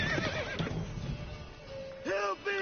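Roach, the horse in The Witcher 3: Wild Hunt, whinnies twice in close succession toward the end, loud and near, with hoof clatter and a voice over game ambience earlier.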